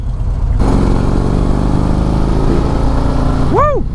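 A 2024 Harley-Davidson CVO Road Glide's engine runs loud and steady close by for most of the clip, with a rider's whoop rising over it near the end.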